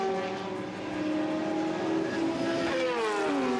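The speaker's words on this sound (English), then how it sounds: "The 20 car starting another lap there." Race car at the 24 Hours of Le Mans starting another lap, a distant engine note rising and shifting in pitch as it accelerates away, under a commentator's talk.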